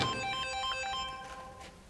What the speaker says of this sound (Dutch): Ja, mijn telefoon gaat.